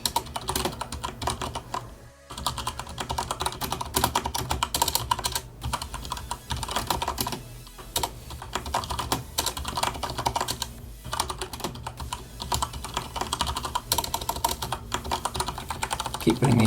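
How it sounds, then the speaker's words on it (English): Typing on a computer keyboard, a dense, continuous clatter of keystrokes at close range that runs nearly nonstop with only brief pauses throughout. "I'm just typing it direct."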